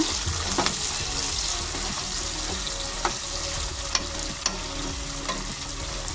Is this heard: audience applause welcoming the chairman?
no